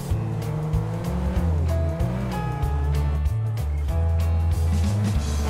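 A car in the GTA V video game brakes hard during a brake test, its engine droning and shifting in pitch while tyre squeal rises, steady and close with no talking.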